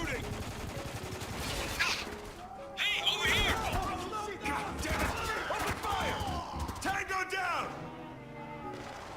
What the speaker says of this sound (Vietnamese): Spec Ops là tựa game bắn súng góc nhìn thứ ba.